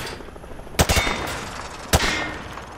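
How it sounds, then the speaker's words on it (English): Rifle fire at range targets on an army base in Modern Warfare 2 Remastered: two sharp, loud gunshot bursts about a second apart, the first a quick double crack, over a low ambient hum. "Grab that weapon off the table and fire at the targets behind you."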